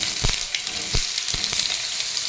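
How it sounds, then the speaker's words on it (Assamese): Paneer fries in a pan, giving a continuous close sizzle with a few brief stirring knocks against the pan. "কেঁচা ভাপটো গুচাই খালি অলপ ভাজি ল'লোঁ"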